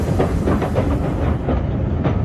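Train at a railway station platform, a steady rumbling roll with faint rhythmic clatter of wagons, fairly loud and continuous throughout with no talk.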